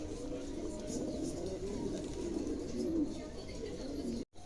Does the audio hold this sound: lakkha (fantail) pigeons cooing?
yes